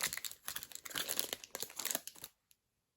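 Plastic packaging around a new watercolour palette crinkles and crackles in quick, irregular bursts up close for about two seconds, then stops, leaving near silence with one small click.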